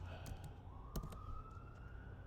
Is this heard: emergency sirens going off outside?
yes